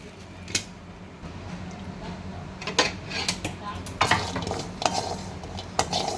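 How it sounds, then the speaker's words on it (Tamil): Almonds dry roasting in a very hot kadai, with spatula scrapes and light rattling clinks coming in scattered bursts over a low background hum, close by. "எல்லாத்தையுமே டை ரோஸ்ட் பண்ணிக்கலாம் கடாய் ரொம்ப ஹீட் ஆயிடுச்சு பாதாம் போட்டுக்கிறேன்"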